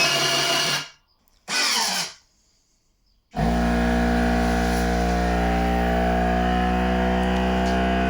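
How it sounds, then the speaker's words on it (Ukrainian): A PWZ320A professional automatic vacuum sealer for smooth bags starts with a brief hiss, goes quiet, then settles into a loud, steady motor hum as its pump draws air, close by with no voices. "Вкачування повітря."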